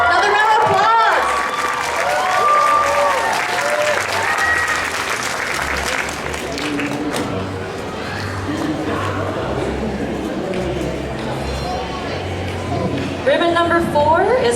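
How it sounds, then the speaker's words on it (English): Sustained audience applause fills a hall at a spring anime convention costume contest, loud and steady throughout with crowd murmur and a voice briefly over it. "Another round of applause."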